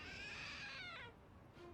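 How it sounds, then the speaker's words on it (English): A cat statue in the video game Lost Judgment lets out a drawn-out, wavering meow, clear and fairly prominent, trailing off into quieter background sound. "Oh, so it does meow."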